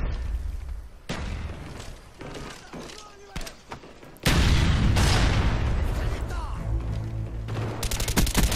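A grenade explodes in the Call of Duty: Black Ops team deathmatch, a sudden loud broadband blast midway that lingers as rumbling noise, set among earlier scattered gunfire and thuds, with a voice talking over the game.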